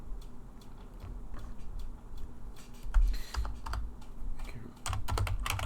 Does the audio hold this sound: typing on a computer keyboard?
yes